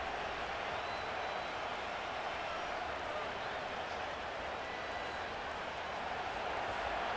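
A stadium crowd in the Madden 25 football game, Detroit Lions at Green Bay Packers, holds a steady, wide roar at moderate volume throughout.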